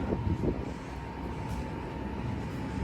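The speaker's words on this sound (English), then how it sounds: "So these are little regional trains." Steady low rumble of regional trains idling in Frankfurt's main station, with a faint tonal hum and some clatter early on, no talking.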